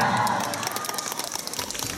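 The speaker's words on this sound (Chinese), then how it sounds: "我们先把最热烈的掌声送给他们" A crowd at a Li Yuchun fan gathering in Changsha applauds as six young male dancers are welcomed: dense, steady clapping with scattered cheers, fairly loud throughout.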